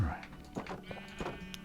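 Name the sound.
sheep bleating in the video game Minecraft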